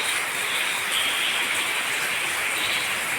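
Steady rain falls with a constant, even hiss, close and uninterrupted throughout.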